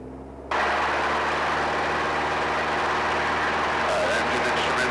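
A Piper PA-28-181 Archer III's piston engine surges to full takeoff power on the runway, a loud, steady broadband roar that jumps up abruptly after a half-second of quieter idle and holds through the end.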